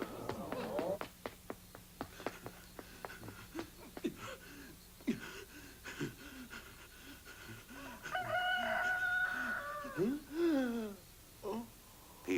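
A rooster crows loudly and nearby in one long call near the end, after scattered clucks and sharp clatter, with people talking through the first part.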